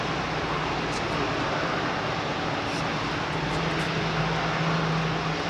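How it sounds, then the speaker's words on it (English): Rolls-Royce Trent airliner engines at London Heathrow Airport give a continuous broad roar with a steady low hum, loud and unbroken throughout, with no voices. "Nice cacophony of engines there."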